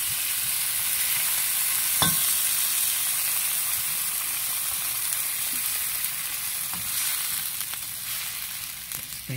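Squid simmering and sizzling in a pan after Sprite is poured in, a steady close bubbling hiss throughout with a sharp clink of a utensil near the start and a few soft knocks later.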